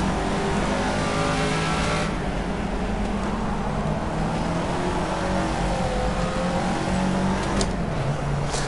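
A Caterham Seven engine in the video game Project CARS at Monaco after a downshift to fourth gear, a loud sustained engine roar with shifting pitch that holds steady throughout.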